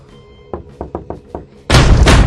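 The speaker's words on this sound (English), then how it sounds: "Skarbrand hates knocking sounds!" Five evenly spaced knocks on a door in a Skarbrand video game, close and solid, followed by a sudden loud roaring burst of noise.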